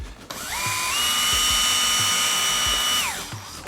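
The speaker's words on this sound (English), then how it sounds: "now just go and pre-drill" A power drill pre-drills holes in wooden architrave, spinning up, whining at a steady high pitch for a couple of seconds, then winding down, close and loud.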